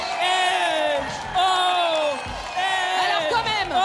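A crowd cheers and whoops for the Sales Mômes dance crew at a street dance battle final, loud and sustained with rising shouts and scattered clapping.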